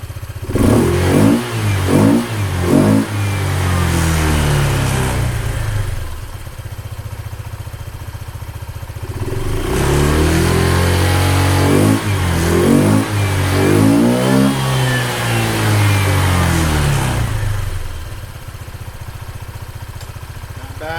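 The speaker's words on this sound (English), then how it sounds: "So we're going to rev it up pretty high." Honda ADV 150 scooter fitted with a Yoshimura exhaust, intake and variator, revved high close up: two bursts of rising, wavering engine roar, each settling back to a steady idle between them.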